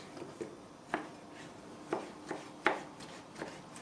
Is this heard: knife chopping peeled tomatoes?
yes